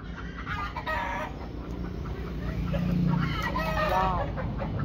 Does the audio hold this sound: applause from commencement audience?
no